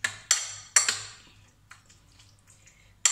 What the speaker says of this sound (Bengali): খুব ভালোভাবে এটাকে মিশিয়ে নেব। এইভাবে ভালোভাবে মিশিয়ে নিতে হবে।